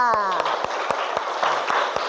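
Pupils in a classroom play a clapping game, striking sharp, even claps at a quick steady rhythm, about eight within two seconds, while a voice calls out over them.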